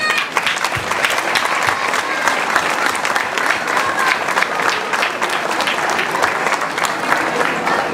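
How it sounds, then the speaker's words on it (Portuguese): A loud, dense wash of crowd applause fills the space for participants at a folklore festival on Pico, honouring a record-setting chamarrita dance circle, steady and unbroken throughout. "um aplauso para todos aqueles que participaram na"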